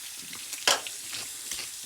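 A frozen burger patty sizzles in a frying pan, with a steady crackle and a few sharper pops, heard close up and alone for a couple of seconds.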